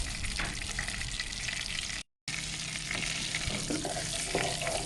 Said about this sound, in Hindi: ज़ीरे को हमने क्यूमन सीड को सौते कर लेना है